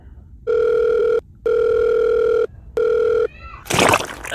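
A telephone ringback tone repeats three times in steady even pulses with short gaps, clear and close, followed by a brief burst of handset noise at the end.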